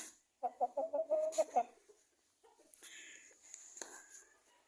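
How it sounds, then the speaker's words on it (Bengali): A very large broiler chicken, around 18 to 20 kg, gives a quick run of close, rhythmic clucks, then falls quiet while soft whispery voices and light rustling follow. "ইয়া বড় মুরগি দেখুন"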